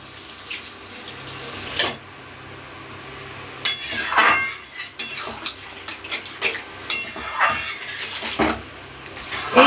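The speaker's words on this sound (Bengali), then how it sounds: "এবার জল দিয়ে দেব।" Water is poured into a cooking pan while making jackfruit Manchurian gravy in a home kitchen. A running splash is heard with scattered metallic clinks and knocks of utensils, close and moderately loud.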